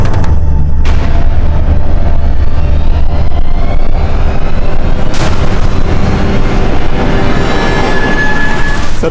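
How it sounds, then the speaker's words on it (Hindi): Loud, close gunshots ring out, with a sharp blast near the start and another around the middle, each leaving a rumbling, reverberant tail over steady low background noise, with no voices. "सर, उस तरफ से गोली चली थी।"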